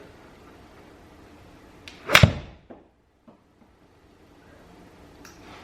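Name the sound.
golf iron hitting ball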